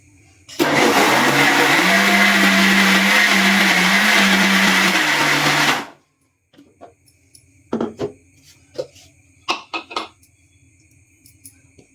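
An electric mixer grinder blending batter runs loud and steady for about five seconds, then cuts off, followed by a few sharp clinks of dishes and utensils.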